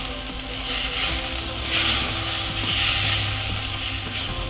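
Ginger-garlic paste frying in moong dal with spinach, a close, loud sizzle and crackle that swells and eases as the pan is stirred, with no talk over it.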